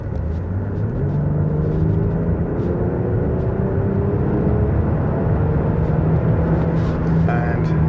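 Infiniti M35h hybrid saloon's V6 engine accelerating on a rough road, heard from inside with the windows shut as a steady low rumble with rising engine tones, continuous and moderately loud.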